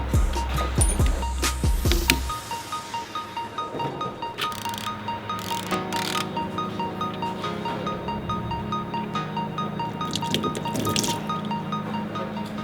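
Engine oil drains from the drain plug of a 2020 Toyota Supra after a clunk of the plug coming free, then a steady close dribble and trickle of liquid into a pan continues throughout, with no talking.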